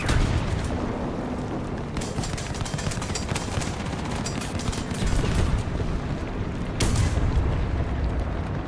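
Sustained gunfire from an M42 in a video game, dense rapid bursts and booming shots rolling continuously over several seconds with sharper spikes of louder blasts, loud and close.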